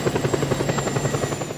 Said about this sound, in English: I want to grab a military helicopter over there